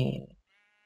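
A single sheep bleat from the Minecraft video game, loud and close, cutting off abruptly and followed by a faint tonal game sound.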